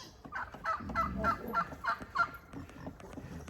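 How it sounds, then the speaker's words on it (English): Several turkeys gobbling in a rapid series of warbling bursts, close by inside a chicken coop, with a low rumbling background underneath. "I think these turkeys are a bit confused."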